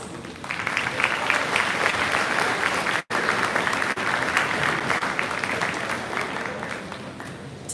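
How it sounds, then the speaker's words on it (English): Graduation ceremony crowd applauding steadily and loudly for several seconds, dense continuous clapping with a brief dropout midway, no voices over it. "Graduates, please thank your supporters with a round of applause."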